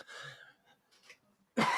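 A single sharp cough bursts out near the microphone after some quiet breathing and faint murmurs.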